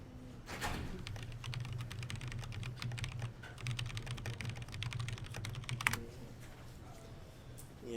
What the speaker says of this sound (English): just typing some of that out there